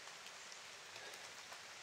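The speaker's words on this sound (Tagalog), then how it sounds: "Grabing ulan guys." Heavy rain pours down steadily, a dense, close hiss of drops on surfaces, brief and unbroken with no one speaking.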